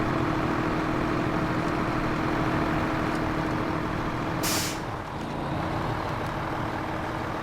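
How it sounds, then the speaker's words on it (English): Air-release hiss of the International HX truck's handbrake in SnowRunner, a single short burst near the middle over a steady, loud diesel engine drone. "Sound on the International is far better, except the handbrake sound."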